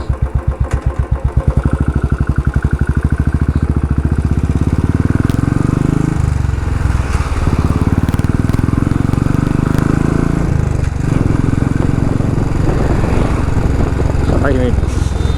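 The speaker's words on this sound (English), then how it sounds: "Just listen to this exhaust sound, man." A Royal Enfield Classic 350 motorcycle's exhaust thumps loudly and close, a rapid pulsing beat at first that settles into a steady throbbing run with slight changes in pitch.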